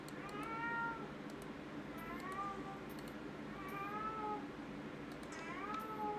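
Repeated cat meows from a House Flipper video game, four drawn-out cries spaced about a second apart over a constant low hum with light clicks.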